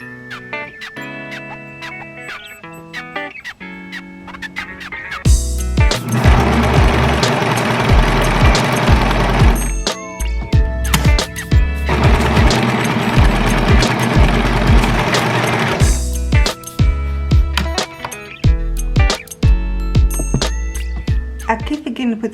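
A home sewing machine stitches a fabric top in two long sustained runs, its buzzing motor loud and close, with quieter mechanical clicks and pauses around them while a person talks.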